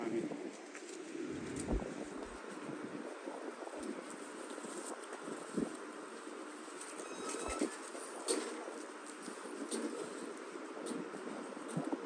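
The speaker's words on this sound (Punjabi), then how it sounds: "ਪੱਕੀਆਂ ਨੋਕਾਂ ਦੇ ਕਬੂਤਰ ਨਿਕਲਦੇ" Domestic pigeons at a keeper's loft coo in soft, repeated, throaty calls at moderate distance, with a few faint clatters and a scatter of background voices around them.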